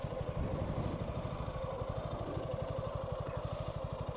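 An adventure motorcycle idles at a low, even putter while being parked, the engine's steady rhythmic thrum close by and unbroken for a few seconds.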